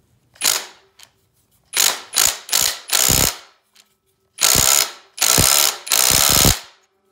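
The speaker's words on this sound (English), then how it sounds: "Flywheel came off by using a flywheel puller bolt" Ratchet clicking in quick bursts while turning a 16 flywheel puller bolt on a Honda ATC 200X engine, six or seven loud, close rattling runs separated by short pauses, no talk.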